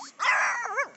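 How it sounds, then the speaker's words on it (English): A single dog lets out a loud, close bark that trails into a whiny, wavering yelp. "Who's barking?"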